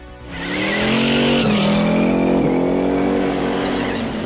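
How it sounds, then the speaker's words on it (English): Ford Mustang engine roaring on the hills of San Francisco, rising into a loud sustained tire squeal with a revving engine underneath, close and intense, then easing slightly, no voices. "its roar and the squeal of tires across the hills of San Francisco"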